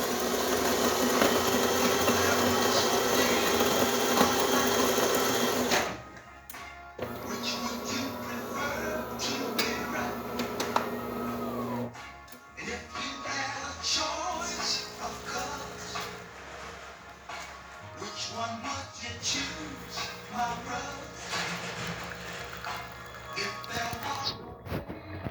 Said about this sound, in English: Today we're testing this DeLonghi Magnifica Espresso machine, and let's go ahead and pull a shot.